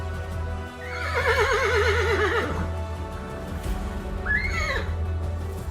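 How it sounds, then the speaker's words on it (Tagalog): A horse lets out a loud, wavering whinny that runs for over a second, then a shorter, higher neigh follows a moment later, with steady background noise underneath. "Nakarinig sila noon ng malakas na paghalinghing ng isang kabayo."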